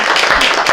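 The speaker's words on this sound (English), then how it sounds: "You could raise your hands and take bows and you'll get some applause." Brief burst of audience applause for volunteers at a historical society open house, dense close clapping from a crowd lasting under a second.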